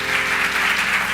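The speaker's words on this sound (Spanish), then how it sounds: "¿Será que le puedes dar un aplauso grande al Señor?" A church congregation at a Spanish-language worship service gives a brief burst of applause, dense even clapping filling the room with a steady hum underneath.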